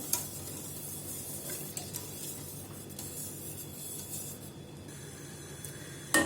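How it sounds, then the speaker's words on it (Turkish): Water being stirred into yayla soup with chickpeas and cracked wheat in a pot; quiet, steady swishing and scraping with a few faint clinks, close by, ending in a sharper knock. "bir miktar suyu koyup karıştırıyorum"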